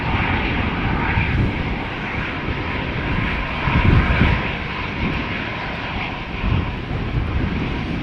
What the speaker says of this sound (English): this EasyJet A319 going to Bristol